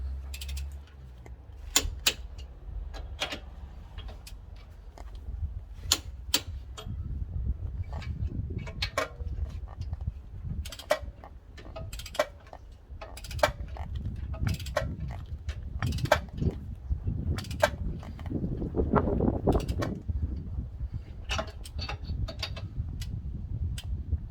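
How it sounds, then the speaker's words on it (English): Wrench ratcheting while U-bolts are tightened on the leaf-spring suspension of a self-built Crafter/Sprinter campervan, a sparse series of sharp metallic clicks in irregular bursts over a low background rumble. "When I'm tightening up U-bolts, I basically take each side up to the similar resistance before I then start tightening them up till the torque set in."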